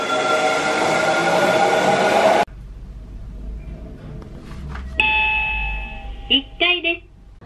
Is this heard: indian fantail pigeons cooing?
no